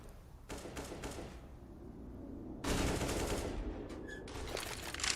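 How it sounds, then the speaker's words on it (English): Rapid automatic rifle fire from a Counter-Strike match on the Overpass map at a professional esports event, sustained bursts of sprayed gunfire with clattering shots, loud and continuous throughout with a sharper, fuller burst in the second half. "Tabson sprays through, nades up from Tabson"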